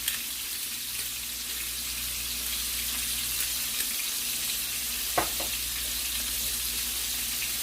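Scallops sear in a hot pan with black pepper and kosher salt, a soft, steady sizzle that runs throughout, with a brief clink partway through.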